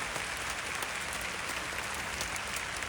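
A concert audience applauding, a dense, even wash of clapping that holds steady from start to finish without any voices standing out.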